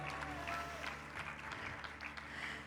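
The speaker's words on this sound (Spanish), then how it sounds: "Denle un aplauso al Señor." A church congregation claps in praise, a dense, fairly faint patter of many hands spread across the room, steady throughout with slight swells.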